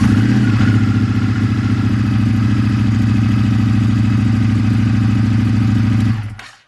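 A 2019 Indian FTR motorcycle engine, just started after a relay swap, idles with a steady low throbbing rumble up close, then cuts off abruptly near the end.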